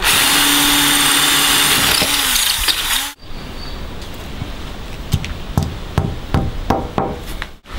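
A power drill bores holes into a wall for mounting a vertical garden display, whining steadily for about three seconds before stopping, followed by scattered sharp knocks and taps.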